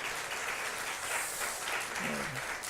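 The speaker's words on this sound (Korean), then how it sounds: "박수하겠습니다." A church congregation applauding during a Teachers' Sunday service, steady clapping from many hands that fills the room at even volume, with a brief voice under it near the end.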